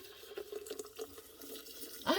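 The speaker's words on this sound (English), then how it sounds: "Then you just pour that in." Melted oil poured into a Magical Butter Machine, a soft steady liquid trickle close by, ending in a brief louder splash, with no one talking.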